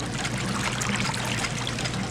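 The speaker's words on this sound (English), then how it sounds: "I'm draining the water." Water draining in a Sherlock Holmes video game, a steady rushing trickle and flow that holds constant and fairly close throughout.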